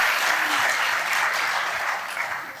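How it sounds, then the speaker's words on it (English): Conference audience applauding steadily in a hall, a dense wash of clapping that holds for a few seconds and then begins to taper off, with no voices. "The applause."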